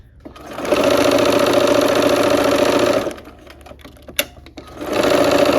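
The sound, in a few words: sewing machine stitching quilt strips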